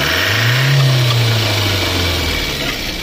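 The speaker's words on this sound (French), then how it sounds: "Vous entendez le claquement, là? Vous entendez les clac, clac, clac?" A car engine idling and revving steadily with a low drone, suspected of a blown head gasket and producing a clacking noise; the sound is continuous, close and loud, with no talk.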